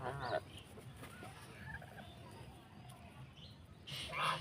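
Domestic geese being sold from a home flock give short honking calls in brief bursts at the start and again near the end, over a low background hum in between.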